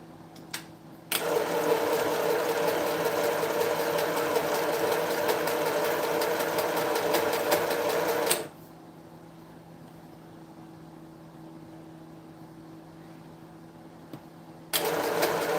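A sewing machine stitches quilt pieces across a double seam: a loud, fast, steady mechanical whirring burst of about seven seconds, then quiet hum, then the stitching starts again at the very end.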